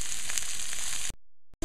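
Beef sizzles steadily as it fries in a pot for Caribbean-style provision soup, a loud close hiss that cuts off abruptly and returns briefly after a short silence.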